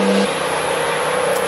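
A truck passes outside, heard as a steady, fairly quiet broadband whir and rumble that holds evenly through the whole moment, with no voices.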